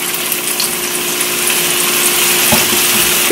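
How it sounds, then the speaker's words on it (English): Tuna steak sears in hot oil in a pan, giving a steady, fairly loud sizzle that runs throughout with no talking. "We're going to take our tuna steak and put that in there."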